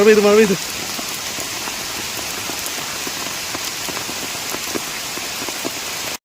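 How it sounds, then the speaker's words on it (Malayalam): Heavy rain pours steadily in a forest in Kerala with a dense, hissing wash and scattered drops pattering nearby; a short voice is heard at the very start. "എൻ്റെ പൊന്നെ, മഴ പെയ്തു."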